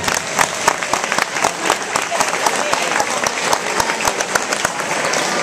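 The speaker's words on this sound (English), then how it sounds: "Let's give the seniors from Dixon a big round of applause." Loud, lively applause fills a high school girls' basketball gym on senior night, with sharp individual claps standing out from the dense crowd noise and murmuring voices mixed in throughout.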